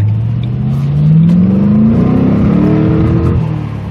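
A Ford Mustang GT running on E85 ethanol with an adaptive tune revs hard and close, the engine note climbing steadily in pitch toward 5,000 RPM before holding a loud, rough roar.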